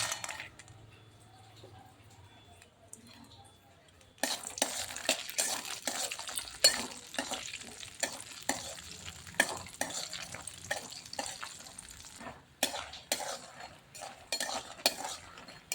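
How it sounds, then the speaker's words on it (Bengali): Lentil dumplings fry in hot mustard oil in a pan, with a soft sizzle under repeated clattering stirs and scrapes of a spatula, quiet at first and then busy and close. "তেলটা গরম হয়ে গেছে, এবার বড়িগুলো ভেজে নেব।"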